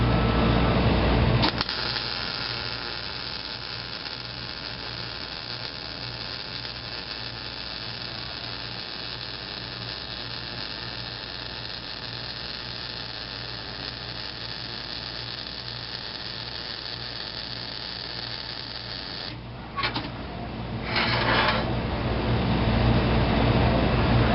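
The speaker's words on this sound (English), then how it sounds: "Weld the ends first, about 4 inches in." Welding on a section of steel frame rail produces a long, steady crackling hiss that holds evenly for nearly twenty seconds, stops briefly with a few short bursts, then resumes.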